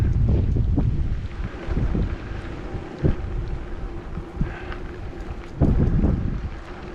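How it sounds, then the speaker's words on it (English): Gusty wind sweeping loose dust and dirt across an exposed gravel race course, a steady roaring rush with louder gusts at a few points and no talk. "this dirt just being picked up by the wind, carried away"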